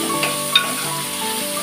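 Chopped onions fry in oil in a pan for a dhaba-style whole masoor dal, a close, steady, dense sizzle with a faint scrape of stirring.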